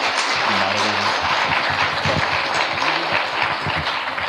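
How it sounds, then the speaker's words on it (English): Audience applause at a Black History Month speaker series event with an author, a sustained wash of many hands clapping at steady volume, with a few brief low vocal sounds mixed in. "Let's give a round of applause"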